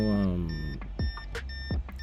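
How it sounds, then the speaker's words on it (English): Short electronic beeps repeat at a steady pace, fairly clear, while a voice talks over them, during key programming on a Ford Mustang S197 Saleen S281. "This is still beeping the same way."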